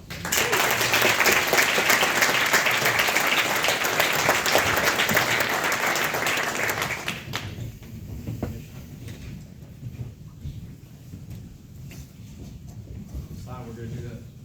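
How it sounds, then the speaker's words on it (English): Audience applause at a West Point commissioning ceremony for Army football seniors, loud sustained clapping for about seven seconds, then fading into quieter room noise with a faint voice near the end. "Give a round of applause."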